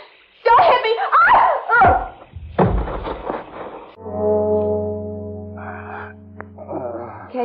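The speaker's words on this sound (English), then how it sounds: "And that foghorn gives me the creeps, Casey." Foghorn sound effect in an old-time radio crime drama, a low sustained horn blast lasting several seconds after voices and laughter, with speech resuming over its tail.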